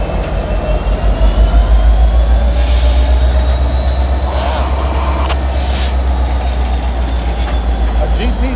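Freight train switching a customer with a bay window caboose and GP60 locomotive, rumbling steadily close by with a low engine drone, wheel squeals, and two brief bright hissing bursts of air brakes.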